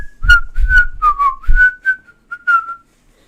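A person whistles a short, wavering tune in quick separate notes, close and clear, with no talking.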